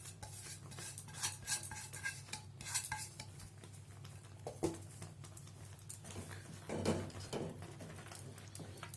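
Chana dal halwa with coconut is stirred in a pan over low flame, a spoon scraping and clinking against the metal in quick, irregular strokes. It sounds fairly quiet and close, with no talking.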